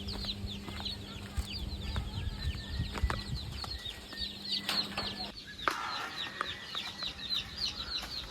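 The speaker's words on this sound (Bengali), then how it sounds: "আমাদের ফার্মি মুরগির বাচ্চাগুলো আমরা ছেড়ে দিচ্ছি।" Farm-raised broiler chicks being let loose chirp in a dense, constant flurry of high peeps, with occasional knocks and rustling nearby.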